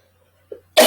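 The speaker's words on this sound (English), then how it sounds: "I've got a cough" A single sharp cough bursts out close and loud, preceded by a faint throat sound, with silence around it.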